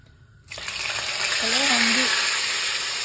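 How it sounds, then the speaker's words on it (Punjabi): Cumin seeds hit hot oil in a kadhai and break into a loud, steady sizzle that holds for several seconds, with a voice briefly speaking over the frying. "ਸਭ ਤੋਂ ਪਹਿਲਾਂ ਜੀਰਾ ਭੁੰਨਾਂਗੇ ਚੰਗੀ ਤਰ੍ਹਾਂ"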